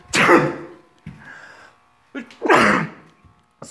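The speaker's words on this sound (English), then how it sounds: "Sneezing with friends" Two sneezes, loud and close, the first at the start and the second just past the midpoint, with a short breathy sound between them.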